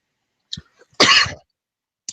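A single sharp, explosive cough or sneeze-like burst, close and loud, framed by a few faint mouth sounds in an otherwise silent room.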